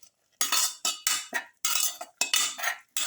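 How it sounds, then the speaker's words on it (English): Salt being mixed into a lamb and chayote pilaf mixture in a pot, heard as a series of close, loud metallic scrapes and clinks of a spoon against the pot in quick uneven strokes, with no talk. "Mix in the salt, the rest of the mixture"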